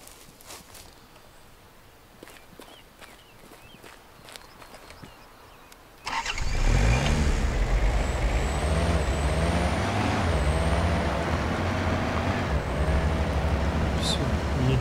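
A video game vehicle starts with a loud roar that settles into a steady, rising engine drone with shifting pitch as it drives off, following a stretch of quieter ambient clicks and rustling.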